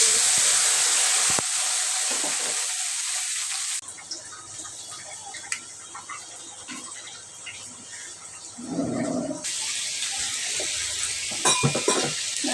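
Fried onions in a pan give off a steady hiss and sizzle after a splash of water goes in, with a brief louder burst of bubbling midway and no talking.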